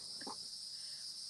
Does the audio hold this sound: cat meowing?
no